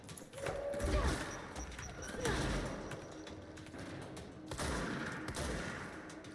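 Bursts of gunfire in the action video game Control, several sharp volleys rising and falling over about six seconds, fairly close and busy with clatter between shots.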